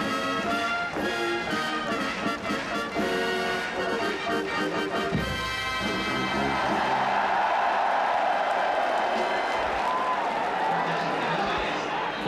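Large crowd roaring and cheering at a rainy racecourse before the 57th Oka Sho (Japanese G1 horse race), a dense sustained swell of voices under loud commentary, building into a broad cheer in the second half.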